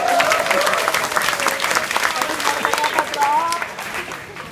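An audience at a company dinner and dance gives a round of applause: dense, continuous clapping from a crowd filling the room for several seconds, with voices and cheering mixed in.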